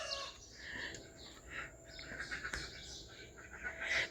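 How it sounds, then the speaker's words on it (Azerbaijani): A rooster crows among clucking chickens in a village yard in Astara, Azerbaijan, the calls rising and falling over a steady background murmur, fairly close but not loud. "Xoruzun səsi də ki aləmi götürüb."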